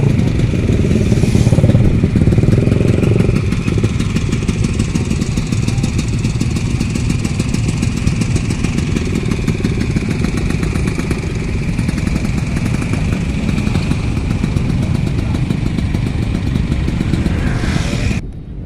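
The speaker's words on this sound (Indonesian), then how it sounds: "Masih mengalir ya untuk kendaraan motor siang ini Pelabuhan Bakauheni." Motorcycles ride through the busy Bakauheni ferry port at midday, a steady crowd of mid-pitched engines idling and rumbling nearby with occasional revs, the clattering drone continuous for the whole stretch.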